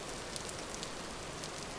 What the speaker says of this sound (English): It's pretty rainy still.